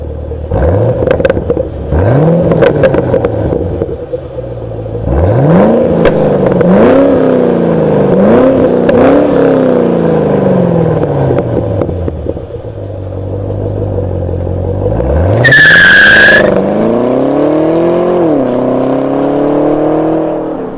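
A Chevrolet Camaro ZL1 engine revs repeatedly, each rev climbing sharply in pitch then dropping back to idle, loud and close, with a brief high whine partway through.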